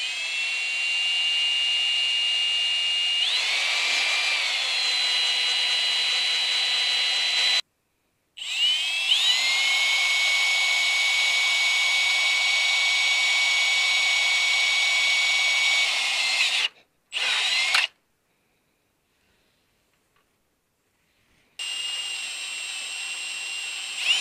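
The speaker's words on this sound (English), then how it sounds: "start drilling here." A power drill whines at a steady high pitch in long runs while drilling at the edge of an RV awning end cap, stopping briefly between bursts, close and loud, with the motor pitch shifting as it bites.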